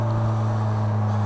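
A Polaris Slingshot's engine runs steadily while driving, giving a low, even drone with a constant pitch and no clear revving, brief and alone.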